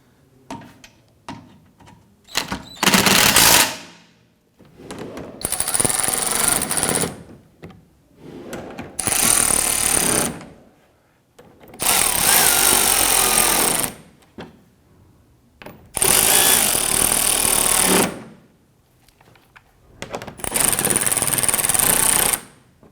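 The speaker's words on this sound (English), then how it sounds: "Snug down the bigger bolts first." A power tool snugging the bumper bracket bolts on a 2012-2017 Toyota Camry, six loud close bursts of buzzing, rattling drive, each lasting one to two seconds, separated by short quiet gaps with faint handling clicks.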